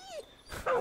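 Dog in the video game Far Cry 5 giving a short whimpering yelp followed by a brief bark, close and fairly quiet, with no speech.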